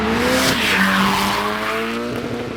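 Drift cars slide past with loud, sustained tire squeal and skidding, engines revving as they come through a tree-lined course, the squeal pitching down as the cars pass close by.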